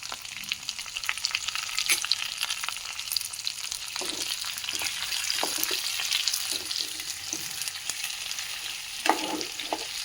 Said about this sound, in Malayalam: പാൻ ചൂടാക്കി ഇതിലേക്ക് കുറച്ച് ഇഞ്ചി, വെളുത്തുള്ളി, വറ്റൽമുളക്, കറിവേപ്പില ഇതെല്ലാം ഇട്ട് മൂപ്പിക്കുക.